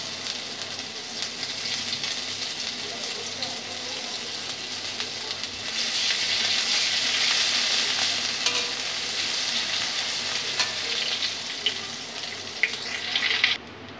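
Turmeric and ginger paste hit hot oil in a pan for a Bengali moong dal khichuri, making a continuous close sizzle that swells louder midway and carries on steadily with no talking.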